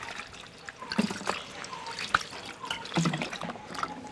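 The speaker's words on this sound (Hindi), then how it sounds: "अब मैं आलू को धो लेती हूँ।" Potatoes being rinsed in water in a home kitchen, with soft splashes, drips and trickles as the potatoes are moved and handled, fairly quiet and close.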